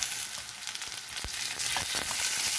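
Steady loud sizzle of tomato added to a pan of browned onions for a potato karakozhambu, with a spoon scraping and stirring now and then, close up with no voices.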